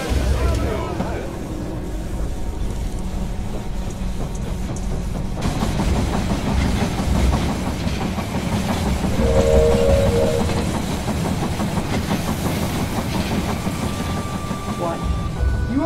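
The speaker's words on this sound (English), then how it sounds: "The train has arrived at the station." A train arrives at a station in the video game They Are Billions: loud rail rumble and clickety-clack with a brief whistle-like tone, over game background sound.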